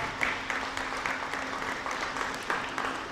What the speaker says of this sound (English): If we can give him another round of applause.